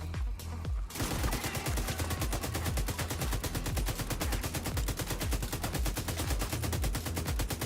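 A light machine gun in the video game The Division 2 fires a long unbroken stream of rapid automatic shots, loud and close, each round cracking in a fast even rhythm after a short quiet start, with no talk.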